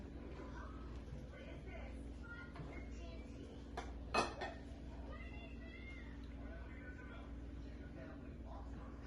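More grits being served into a bowl, with one clear clink of a utensil against the dish partway through, over a quiet, steady room hum and soft voices.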